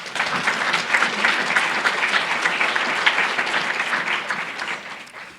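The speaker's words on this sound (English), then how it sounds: "let's give DelTech a round of applause" An audience at a Hispanic Heritage Month celebration breaks into a sustained round of applause, a dense, even clapping from many hands that fades out at the end.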